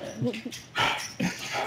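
A dog gives a few short barks and whimpering yips close by, mixed in among people talking around a table.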